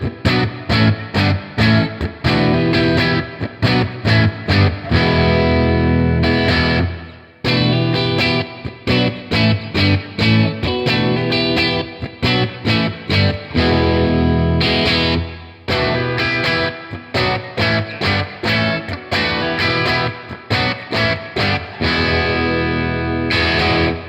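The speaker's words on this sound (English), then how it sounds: "the amp was set for an overdrive valve breakup tone and a little reverb" Gibson Les Paul Special electric guitar through an amp set for overdriven valve breakup with a little reverb, playing loud, continuous strummed chords and riffs with short pauses, alone without talk.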